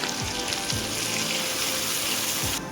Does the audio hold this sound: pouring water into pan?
yes